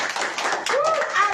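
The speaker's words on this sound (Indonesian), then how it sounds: "Beri tepuk tangan" Church congregation clapping together during a worship service, a short round of claps mixed with singing or speaking voices over it.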